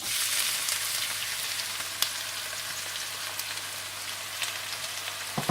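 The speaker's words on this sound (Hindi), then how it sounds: "इसमें आप साबुत लाल मिर्ची डाल दें और साथ ही आप इसमें कटे हुए प्याज डाल दें।" Chopped onions and whole red chillies fry in hot oil, making a dense, even sizzle with a rain-like hiss that holds steady throughout. A few faint ticks and pops sit on top. No one talks.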